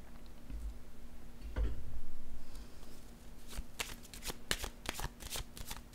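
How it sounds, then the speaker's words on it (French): Tarot cards are handled and laid down, faint close shuffling followed by a series of soft, quick ticking snaps as cards are placed. "Je vais déposer une autre carte encore ici."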